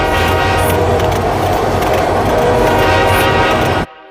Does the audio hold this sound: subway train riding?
yes